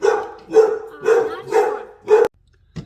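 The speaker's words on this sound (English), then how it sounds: "Sorry about my dog." A pet dog barks five times in a steady rhythm, loud and close, in a home kitchen during cooking, followed by a brief quieter yip after a pause.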